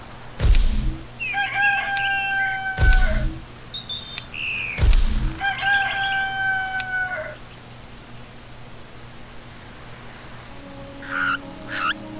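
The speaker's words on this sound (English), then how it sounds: "Roosters always crow when the sun comes up." Rooster crowing in the video game Black & White 2, several separate crows at moderate distance over a steady bed of insect and frog-like chirps, with loud low thumps between them.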